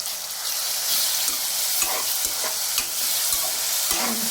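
Green chilli paste and broad beans frying in oil for a bean and tomato curry, stirred in the pan: a steady close sizzle with repeated scraping stirs throughout.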